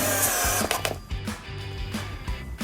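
A drill whirs in short bursts with brief pauses between, drilling pilot holes into wood for a tool box close by, its pitch shifting as the bit works through.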